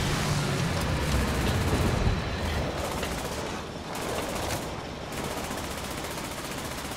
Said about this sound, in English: he's shooting, you know, the machine gun for some kind of target that I can't see